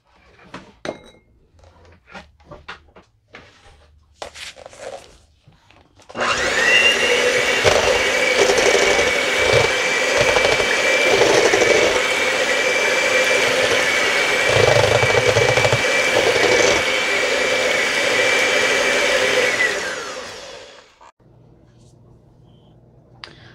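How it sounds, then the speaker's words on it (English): Electric hand mixer beating bread dough for hot cross buns, a loud steady whir that starts abruptly, runs continuously for about fourteen seconds, then cuts off, with brief kitchen clatter before and after. "I'm going to use my hand mixer for this part."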